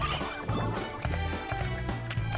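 Chickens in the video game Slime Rancher cluck and burble in quick repeated bursts under game background sound, with no talking.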